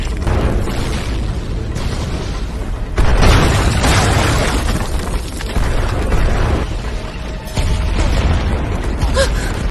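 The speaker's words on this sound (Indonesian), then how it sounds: "tiba-tiba saja istana mereka pun runtuh dan meledak" A palace collapses and explodes in an animated Chinese fantasy series, giving loud, sustained rumbling booms and crumbling debris with a few sharper bursts throughout.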